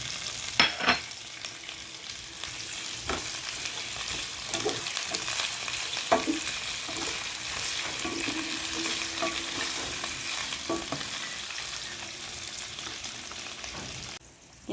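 Meat sautéing in a pan for ginisang gulay (Filipino vegetable stir-fry), a steady close sizzle with occasional scrapes and stirring clatters throughout, no voices.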